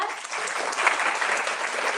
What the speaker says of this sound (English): I wanna give you guys another round of applause for